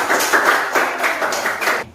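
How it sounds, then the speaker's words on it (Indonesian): Schoolchildren in a classroom clap together in quick, even bursts that repeat in a steady rhythmic pattern, close and fairly loud, with no talking over them. "kita beri tepuk tangan dulu"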